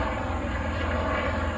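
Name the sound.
helicopter flying overhead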